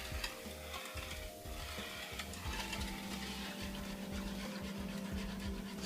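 A whisk stirs shrimp and crab bisque simmering in a pot, giving steady scraping and rattling strokes with a faint sizzle underneath, close and continuous.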